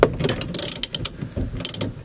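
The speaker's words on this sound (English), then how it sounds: "I'll loosen off these bolts fully, pretty much get them out" Bolts on a Toyota Coaster clutch master cylinder being loosened with a ratchet, rapid close clicking of the pawl in uneven bursts with short pauses.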